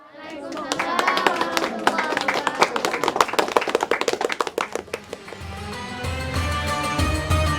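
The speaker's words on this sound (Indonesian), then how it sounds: "Sekali lagi kita berikan tepuk tangan yang meriah untuk penampilan M. Dava Nur Zafran." An audience claps through a televised children's preaching competition stage show, a dense crackle of hands that swells and then thins into scattered claps, with a low hum and murmuring underneath toward the end.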